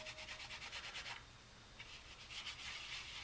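A dry cloth towel rubs over a painted PS3 controller to buff off yellow overspray from red paint, giving close, steady scrubbing strokes that pause briefly midway and then resume.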